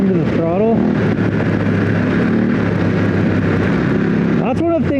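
Adventure motorcycle on Motoz Tractionator adventure tires pulls away under throttle, a steady loud engine drone with wind rumble throughout, while someone talks over it.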